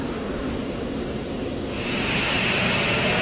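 A Boeing 727 with all three jet engines running taxis, making a steady broad roar that grows slightly brighter and louder toward the end, with no talk.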